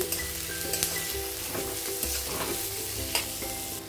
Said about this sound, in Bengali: এখন দিয়ে দেবো কেটে রাখা গাজর, ওর সঙ্গে ভেজে নেবো ভালো করে